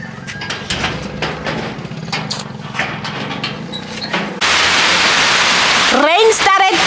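Heavy rain hisses down as a dense, steady wash that starts abruptly partway through, following scattered clicks and knocks and background voices.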